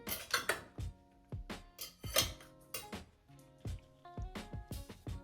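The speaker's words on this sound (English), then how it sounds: "I'm just gonna move these over here and take the muffins out of the baking" Vegan double chocolate muffins are lifted out of a metal baking pan, with a quick series of close, sharp clinks, clatters and scrapes of pan and utensils in an irregular rhythm, no talking.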